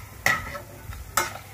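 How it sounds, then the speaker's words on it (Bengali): Dal bori lentil dumplings fry in a pan, with a soft sizzle under two sharp, brief scrapes of a spatula stirring them close up. "ডালের বড়ি ভাজা"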